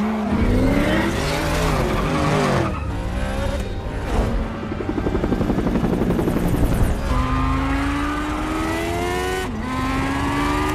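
Cars race in the Need for Speed film, with engines revving and roaring loudly, rising and falling pitch as they accelerate and shift, and brief tire squeals across the sustained, close-up racing noise.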